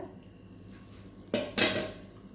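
A spoon clanks and scrapes against a pot while fish curry ingredients are stirred, two sharp metallic bursts over quiet kitchen background.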